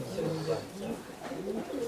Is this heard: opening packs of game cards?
no